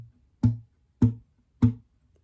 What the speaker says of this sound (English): You're just adding the kick drum by slapping the guitar 16 times somewhere around the sound hole